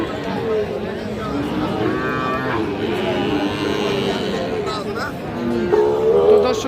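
A Sahiwal bull calf lows at a rural cattle market in Raniganj, with a drawn-out moo rising near the end over constant crowd chatter and people talking close by.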